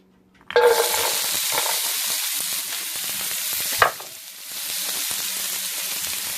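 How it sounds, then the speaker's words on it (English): Carrots fry in a hot pan for fried rice, a steady close sizzle and hiss that begins with a burst as they hit the oil, with a brief stir-like spike midway. "let that sizzle up nice"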